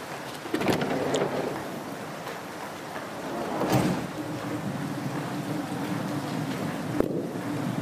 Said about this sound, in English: I know it's raining, Munchkin.